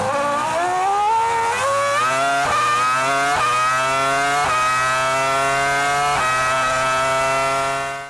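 A loud, high-pitched V10 racing engine revs hard and climbs through several quick gear shifts, close and continuous, with no voices.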